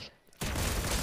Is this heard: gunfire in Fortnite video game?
yes